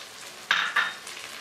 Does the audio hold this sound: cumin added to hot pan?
yes